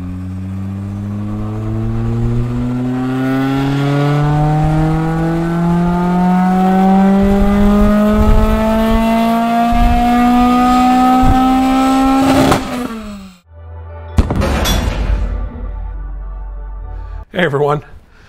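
A Toyota 2AR-FE engine with upgraded camshafts revs hard on a dyno, its pitch climbing steadily through the gears for about twelve seconds before cutting off, followed by a couple of short blips and a burst of noise.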